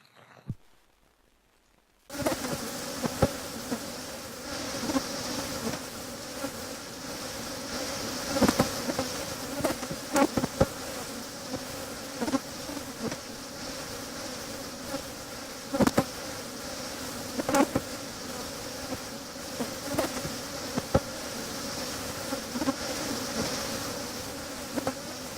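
A dense buzzing insect swarm made as a sound effect for the Exodus plagues, with a constant droning hum and frequent sharp buzzy passes, loud and close, after a brief quiet start.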